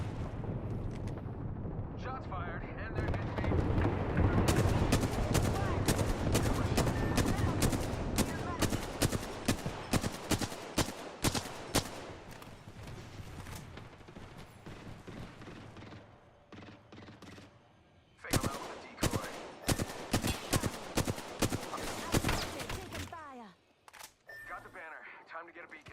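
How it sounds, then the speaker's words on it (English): Video game gunfire crackles in long, rapid bursts and scattered single shots, loud and close. It fades and returns over about twenty-five seconds, with game voice lines talking at times. "Shots fired, and they're hitting me."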